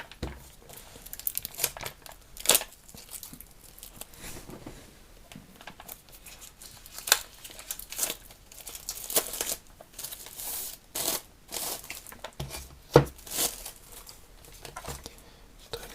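Crinkling plastic and paper rustle in irregular bursts as a package holding a Bebird A2 ear cleaner is torn open and handled up close, with no talking.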